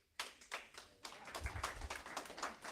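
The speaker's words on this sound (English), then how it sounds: "we like to give you 2 claps" An audience at a quarterback club gathering claps, a couple of sharp single claps first, then a fuller burst of several hands clapping together in a room, fairly faint overall.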